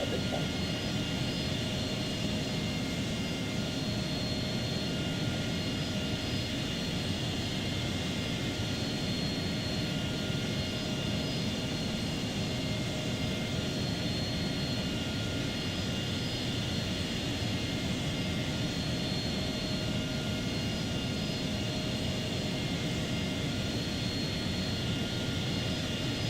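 AV-8B Harrier II+ jet engine in the Flight Simulator X game, a continuous, even turbine roar with a steady whine on top, unbroken and constant in level throughout.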